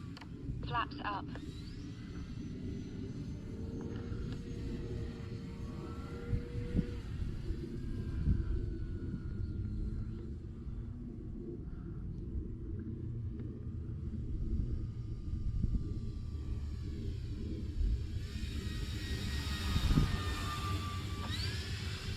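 An E-flite Timber Turbo radio-controlled plane makes a presentation pass, its motor drone rising and falling as it approaches and passes at a distance, while someone talks over it.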